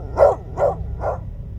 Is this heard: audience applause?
no